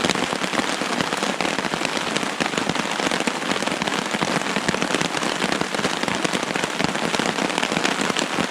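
Heavy rain pounding on a tarp shelter at Sixth Lake in the Essex Chain Lakes, a dense, loud, continuous patter of drops drumming close overhead without pause.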